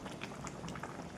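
Curry made with mustard paste bubbles in a pot, giving a brief, faint, steady simmering sound.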